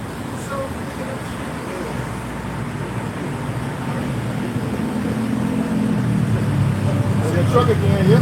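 A truck rumbles past outdoors, a broad low roadway roar that swells steadily louder toward the end, heard beneath ongoing talk.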